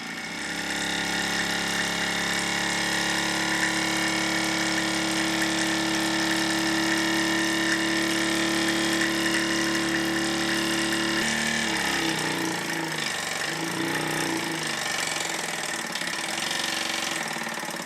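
A small Mamod toy steam engine chugs steadily with a continuous mechanical hum and rattle, then cuts off abruptly, leaving faint clicks and hissing.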